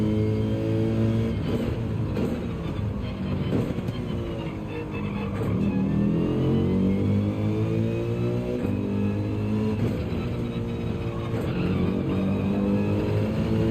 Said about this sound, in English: I could never get tired of hearing this engine in the game.